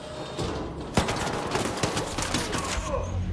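Rapid bursts of video game gunfire crackle through a busy background, with one sharp louder shot near the start and a string of quicker reports after, while a voice speaks faintly underneath.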